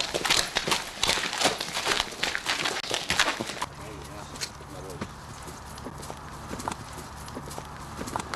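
A horse's hooves clip-clop on rural ground in rapid, close strikes that stop partway through, leaving low background noise, during a greyhound hunt.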